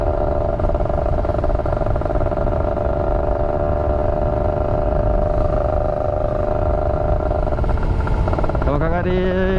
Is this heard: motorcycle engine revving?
yes